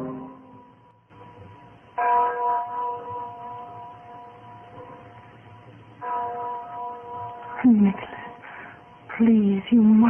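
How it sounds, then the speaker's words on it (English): A church bell tolls slowly as a radio drama sound effect, with several ringing strikes set against actors' voices speaking over and between them in an old broadcast. "You hear that bell, Miranda?"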